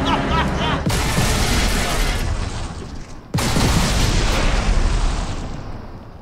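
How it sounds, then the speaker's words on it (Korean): A chain explosion of about twenty grenades in a video game erupts as a dense, loud barrage of blasts and booms. It rolls on for seconds, with a brief dip before a second heavy wave of detonations. "수류탄이 여기 한 20개 정도 있었거든요. 다 연쇄 폭발됐어요."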